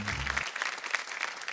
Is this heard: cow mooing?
no